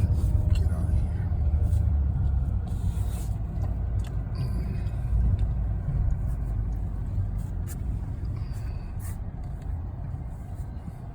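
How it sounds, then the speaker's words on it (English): Manual Hyundai Veloster pulling away in first gear, its engine a steady low rumble that swells slightly as it takes off, heard from inside the car without voices. "taking off in first gear is always a struggle with this vehicle, always"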